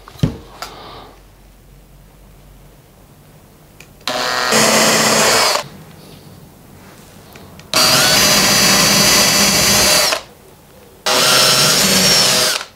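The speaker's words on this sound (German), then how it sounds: "mit dem Bohrer durchbohren" A power drill with an 8 mm bit whirs in three loud, sustained bursts while drilling a hole for wall plugs, separated by short pauses, close to the listener.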